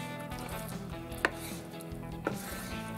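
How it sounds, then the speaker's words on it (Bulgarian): Knife strikes a board twice while cutting cleaned offal for haggis, each a sharp, distinct chop, close but quiet over a faint room hum, with no one speaking. "Сега в обратен ред, както сме почистили карантията, ще нарежем и ще сложим в тенджерата,"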